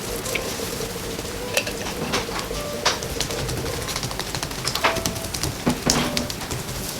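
Aloo paratha frying on a hot pan brushed with butter, a steady close sizzle with small crackles and pops, continuous with no talking.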